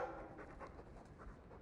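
A dog panting in the video game Dragon Age II, quick soft breathy pulses, faint and close, with no talk.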